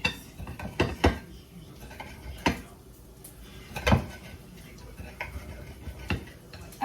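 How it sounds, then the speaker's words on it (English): A tomato being chopped with a cheap kitchen knife, a series of irregular sharp knocks of the blade striking the cutting board, spaced about a second apart, fairly close, with quieter scraping in between. "There's no way in the world I should be chopping a tomato like this."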